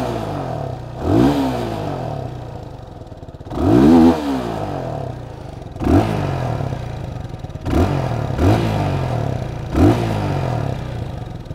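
A Peugeot PM-03 single-cylinder motorcycle idles with a loud, thumping putter and is revved in several short, rising bursts, close by.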